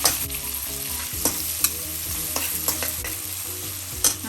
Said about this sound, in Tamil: நல்லா வெங்காயம் வதங்கணுங்க.